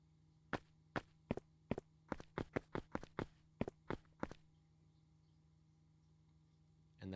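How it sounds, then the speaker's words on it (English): Footstep sound effects for a dungeon level built in Unreal Engine 5, a series of about thirteen sharp, distinct steps in uneven rhythm over a quiet low hum, then silence. "which has an array of 6 different footstep sounds"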